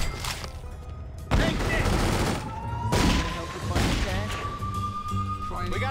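Police gunfire in The Godfather 2 video game, with a dense fusillade of shots and thuds over a chaotic, loud backdrop while a voice speaks briefly.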